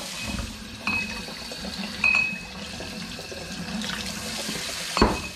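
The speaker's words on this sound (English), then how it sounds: "Now I'm going to give them a quick rinse to get the sticky off them" Capped cider bottles are rinsed under a running tap, giving a steady low splash of water with a few glassy clinks and knocks at irregular moments.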